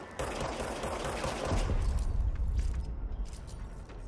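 Rapid bursts of automatic gunfire from the player's weapon in the video game Control, loud and dense with heavy low-end booms that build midway through, heard alone.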